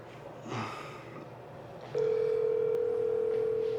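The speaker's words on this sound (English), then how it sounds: "Answer the phone, boy." A telephone call to a friend begins with a soft handling noise, then a steady, unbroken electronic call tone plays clearly for the last couple of seconds.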